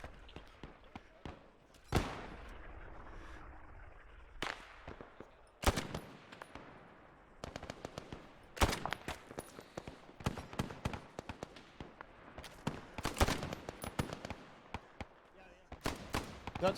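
Rifle gunfire in a Korean War combat video game: sharp irregular shots ring out, some isolated and some in quick bursts, loud against a quieter background.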